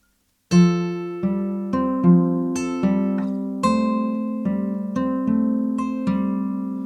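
Plucked guitar chords picked in a steady pattern, each chord ringing out before the next, clear and close with no voices.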